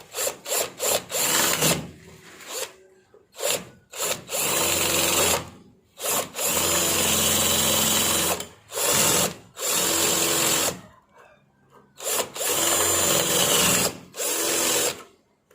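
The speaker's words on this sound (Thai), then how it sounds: "ให้ นำดอกสว่านนะครับ มาเจาะ เอาตัวเก่าออกก่อนครับ" A power drill bores out a broken screw stuck in a wooden door frame, in loud, close bursts of whirring that start and stop repeatedly, with short pauses between runs.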